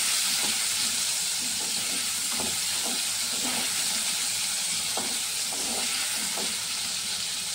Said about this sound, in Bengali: এবার আলুটাকে একটু ভাজা ভাজা করে নিই